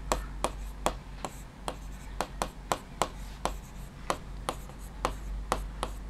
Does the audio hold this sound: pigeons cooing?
no